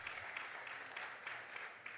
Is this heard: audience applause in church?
yes